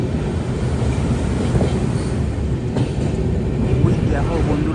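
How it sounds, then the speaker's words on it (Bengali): The 12344 Haldibari–Sealdah Darjeeling Mail runs on rails with a heavy, continuous rumble and rattle heard from on board, with faint murmuring voices underneath. "ট্রেনটি তাও প্রায় 147 বছর পুরনো ট্রেন।"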